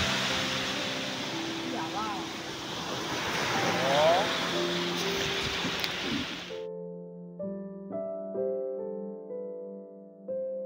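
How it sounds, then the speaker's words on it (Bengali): Sea waves wash onto the beach at Bakkhali, a continuous loud surging roar with wind, cut off partway through and replaced by soft background music. "দেখো পুরো সামনে একদম জলের ঢেউটা"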